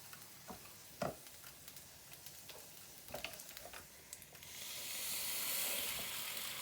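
Waffle batter in a hot waffle iron, with faint taps and crackles that give way to a steady, louder hiss of sizzling and steam toward the end.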